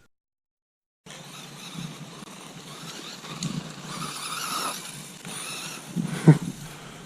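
Team Associated RC10 B2 RC buggy running laps on a dirt track, its small electric motor whining steadily at moderate volume after a silent start, with a sharp louder burst near the end.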